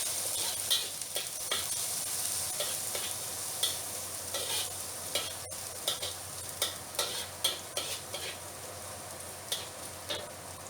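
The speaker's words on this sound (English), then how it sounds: "We start by frying the ginger and garlic." Ginger shreds and minced garlic sizzle steadily in a hot wok during stir-frying, with frequent sharp clinks and scrapes of a spatula stirring, and no talk.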